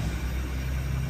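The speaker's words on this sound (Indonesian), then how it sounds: "Ini suara berisik-berisik di belakang ini adalah suara mobil" Steady traffic noise from a nearby main road rumbles in the background, a low continuous wash of passing car engines without distinct events, fairly faint and with no voices.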